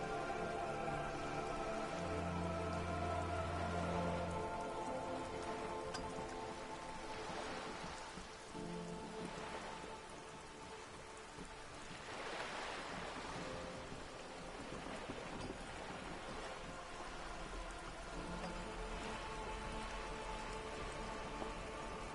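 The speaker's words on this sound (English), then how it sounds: "All around you, rain keeps falling down. On the wooden boards she's standing on, and on the water around you." Steady rain pours onto wooden boards and surrounding water in the video game Disco Elysium, a continuous dense hiss of drops with a soft low thunder rumble, heard alone without voices throughout.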